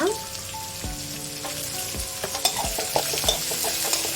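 Onions frying in a pan with garlic, dried chilli, curry leaves and turmeric for a cluster bean stir-fry, a close steady sizzle punctuated by regular metallic scrapes and knocks of a spatula against the pan.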